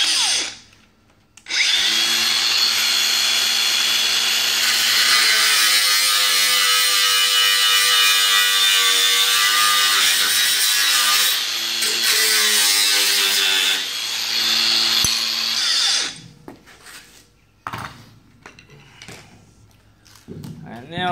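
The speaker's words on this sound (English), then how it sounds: "Angle grinder." An angle grinder cuts plywood for a horse stable divider panel, a loud sustained whine lasting around fifteen seconds with pitch shifting under load, then stopping, with brief clatter after.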